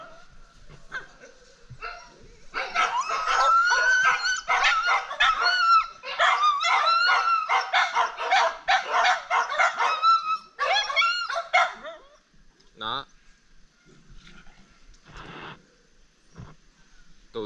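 Several pet dogs bark and yip excitedly in a long, loud burst of overlapping barks lasting several seconds, then a few scattered barks trail off.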